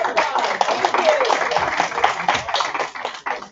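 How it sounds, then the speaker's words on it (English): A crowd claps and cheers in a dense, continuous patter of applause, with voices mixed in throughout. "So give yourselves a big applause."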